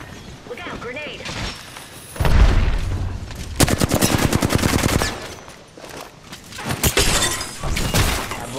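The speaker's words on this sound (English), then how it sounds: "Look out, grenade." A grenade goes off in the battle-royale shooter Apex Legends: a loud, close blast with a deep low thump, followed by several rapid bursts of gunfire, with players talking over the action.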